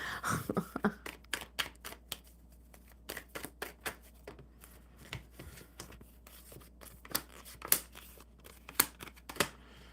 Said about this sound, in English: One more good shuffle for Jen, aka Charles.